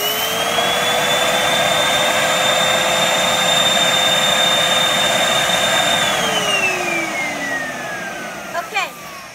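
A vacuum draws air out of a bag of stuffed animals with a loud, steady whine that climbs early, holds, then falls in pitch as it winds down, followed by a few soft clicks.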